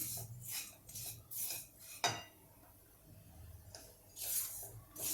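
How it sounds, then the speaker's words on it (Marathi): Semolina roasts in a pan over high flame for instant rava idli, heard as repeated close scraping and stirring strokes of a utensil against the pan, in rhythmic bursts with quiet gaps. "मोठा गॅस करून मी हे रवा भाजून घेते"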